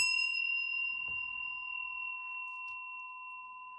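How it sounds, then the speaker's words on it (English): A bell struck once for a tarot card reading gives a clear, bright ding that rings on with a long, slowly fading sustain, close and alone with no talking. "I'm going to go ahead and ring the bell just for additional good juju."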